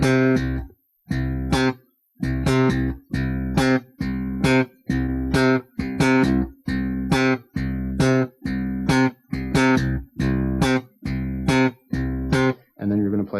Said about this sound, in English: So we're just going to play some simple octave exercises using some of the right hand rhythms that we talked about previously.